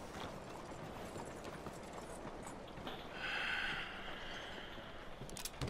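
Horse hooves clip-clop at a steady walking pace in the Red Dead Redemption 2 video game, a continuous moderate patter over a noisy town ambience, with a brief tonal chime partway through.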